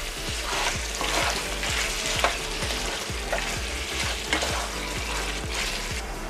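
Mutton pieces and tomatoes are stirred in a pot over a strong, steady sizzle, with a spoon scraping and knocking rhythmically against the metal several times per second, close and loud.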